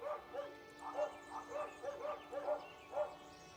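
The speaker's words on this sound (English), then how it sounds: "Seems like everybody's got a dog." Several dogs bark and yip in short, rhythmic bursts from a little distance in the city-builder Kaiserpunk, with no other sound.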